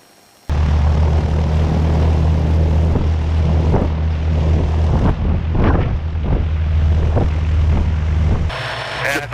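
A propeller airplane roars at full power while taking off from a grass two-track strip at high elevation, with a loud steady engine drone, wind buffeting the microphone, and bumps and rattles from the rough ground throughout.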